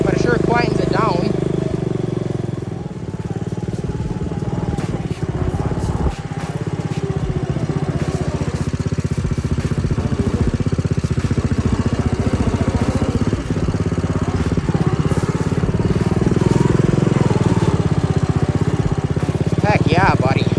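A John Deere tractor engine runs steadily through its muffler, a close, continuous low rumble with a mid-range drone, while someone talks over it.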